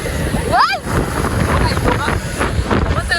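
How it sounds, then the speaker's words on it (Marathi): Strong wind buffets the microphone with gusty rumbling throughout, while voices talk over it. "कारण की फुल वारा वगैरे सुटला आहे"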